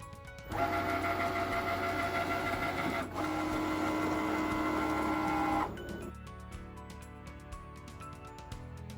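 A Cricut Maker cutting cotton fabric, its motorized carriage buzzing and whirring in two long, steady passes split by a short pause, then a softer clicking tail. The sound is fairly quiet and close, with no talk.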